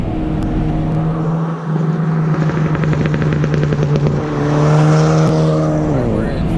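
A 2018 Hyundai Elantra Sport with a loud modified setup making 240 wheel horsepower accelerates through a gear with a steady engine drone that rises in pitch, heard from inside the car with occasional talk over it.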